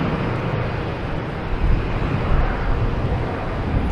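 A JetBlue Airbus A320 jet takes off at Boston Logan Airport, a loud broad roar heard from a distance outdoors with wind buffeting the microphone, rising slightly midway, with no talk.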